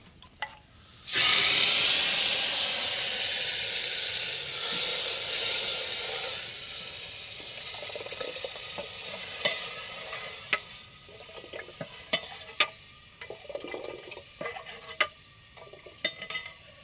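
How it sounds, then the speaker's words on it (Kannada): Oil hits a hot pan for a coconut-masala fish curry with a sudden loud hiss that holds for several seconds, then slowly fades into softer crackles and scattered pops, with no voices. "ಈಗ ಎಣ್ಣೆ ಬಿಡ್ತಾರ."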